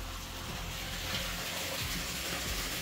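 Water runs steadily from a tap, a continuous gushing hiss that stays fairly even throughout with no talking over it.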